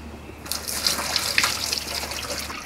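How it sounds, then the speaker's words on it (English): Water pouring into the radiator of a Toyota KE70 Corolla fitted with a BMW M50B20 engine, a steady splashing gush that starts after a quiet half second and continues at moderate volume with no talking. "So we're gonna fill it up with water."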